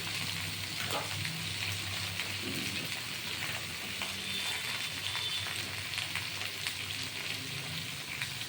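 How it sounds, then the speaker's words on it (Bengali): Vegetables frying in oil with salt and turmeric for a spinach dish, giving a soft, continuous sizzle with faint stirring, fairly quiet and steady throughout. "সব সবজি কিন্তু সুন্দর করে ভাজা হবে লবণ হলুদ দিয়ে ভাজা হবে"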